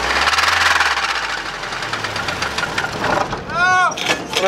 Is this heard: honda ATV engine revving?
yes